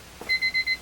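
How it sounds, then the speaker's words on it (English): A small kitchen-style timer alarm going off in a mask-making workshop, signalling that a latex mask mold has finished draining: four quick, even electronic beeps, close and clear, with no talk. "My little timer."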